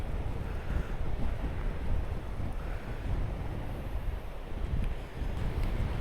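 Steady, loud wind buffets the microphone on a coastal path at Arbroath, a continuous low roar with gusty swells and surf-like rumble throughout and no voices.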